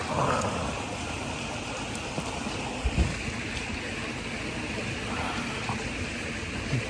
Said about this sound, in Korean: 여기 물소리도 듣고